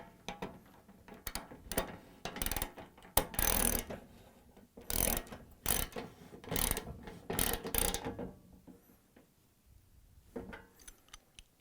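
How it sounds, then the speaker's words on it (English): A socket wrench ratchets as it tightens Venturi nuts on a Thermador range, sounding as bursts of close, sharp clicking with pauses between them before it goes quiet. "now we're going to tighten them with a 13/16 socket wrench"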